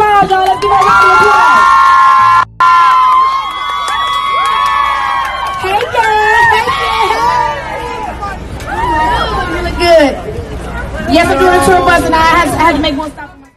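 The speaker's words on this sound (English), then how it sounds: "Let's give her a round of applause, y'all." Fans at a celebrity surprise meeting cheer and shout excitedly, a loud crowd of voices with whoops and babble rising and falling throughout, no clear clapping.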